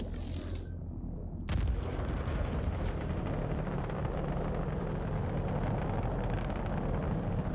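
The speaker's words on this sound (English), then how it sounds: "Direct hit. Connie destroyed." A torpedo strikes and destroys a Constellation starship in the Star Citizen space game, a sudden loud boom that swells into a long, heavy rumbling roar that fills the rest of the moment without any voices.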